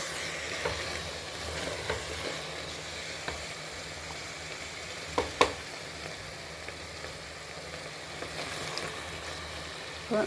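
Chicken pieces sizzle and fry in a pan with cooked-down tomatoes, a steady close hiss broken by occasional sharper pops and the scrape of stirring.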